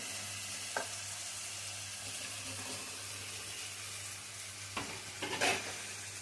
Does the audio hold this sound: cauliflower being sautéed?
yes